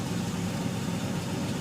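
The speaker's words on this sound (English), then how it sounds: "As you can see, the engine's running at the moment" A Triumph TR5 PI engine idles steadily nearby, a constant low rumble with an even, unbroken tone and no voices.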